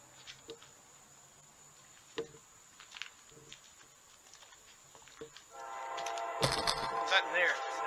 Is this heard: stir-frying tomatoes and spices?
no